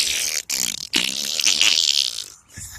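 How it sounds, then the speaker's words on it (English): A toy fart noise from a Wowwee Untamed Venom dragon toy: a loud, buzzy, sputtering blast lasting about two and a half seconds, broken by two short gaps near the start. "Must be a way to get that guy to fart."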